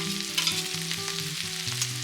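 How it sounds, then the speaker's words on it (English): Leeks stir-fried in a pan for Japanese-style fried udon: a busy, close sizzle of frying with stirring movements and a low steady hum beneath, with no talking. "Add leeks and stir fry"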